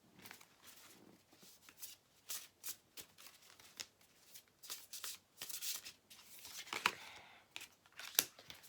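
Oracle cards being shuffled by hand, close up: a rapid run of papery riffles and slaps in irregular bursts, with sharper flicks toward the end.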